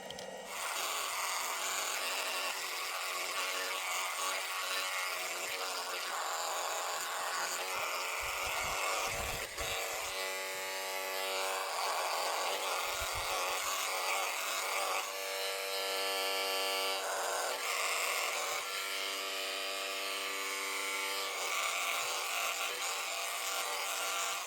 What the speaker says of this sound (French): Et ça me permet du coup de me raser avec mon rasoir.